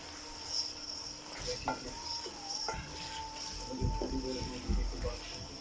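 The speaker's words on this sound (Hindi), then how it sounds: "इनको अच्छी तरह मिक्स कर लेंगे और अच्छी तरह भून लेंगे।" Meat with spices and turmeric fries in a pan while being stirred, making a soft steady sizzle with scraping spoon strokes and a few light knocks against the pan, heard close and fairly quiet.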